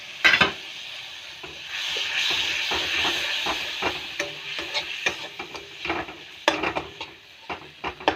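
Masala of cumin, chilli and coriander with a splash of water frying in a pan, a quiet sizzle under repeated clattering stirs and scrapes of a spoon against the metal.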